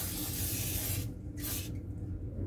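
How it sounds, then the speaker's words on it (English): WD-40 lubricant sprayed onto a side table joint, heard as two short hissing bursts of aerosol spray, about a second apart, close to the microphone over a low background hum. "Got my WD-40 right here. I'm going to spray it right in this area."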